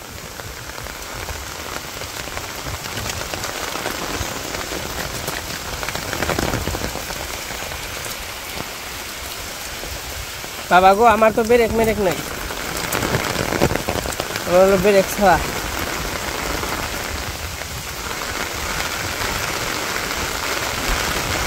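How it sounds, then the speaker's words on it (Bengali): Steady rain falls on surfaces in a Bangladeshi village, a dense, even patter throughout. Someone speaks briefly near the middle. "কেমন বৃষ্টি"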